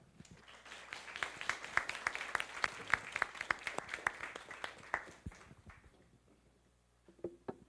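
Audience claps for the Vice President at a foreign correspondents' club event in Taiwan: scattered, fairly sparse hand claps that build, then thin out and stop after about five seconds, leaving near-quiet and a brief voice.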